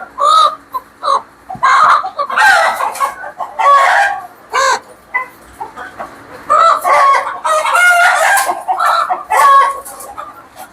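Chickens at a desi poultry farm cluck and crow in repeated bursts, loud and close, with short pauses between calls and no talking.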